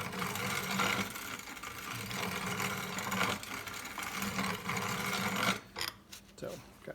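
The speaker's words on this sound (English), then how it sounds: "This will grind oats and nuts and just all kinds of stuff." An electric grain grinder milling whole flaxseed into flour gives a steady, loud mechanical whirring drone that cuts off abruptly near the end, leaving a few faint clatters.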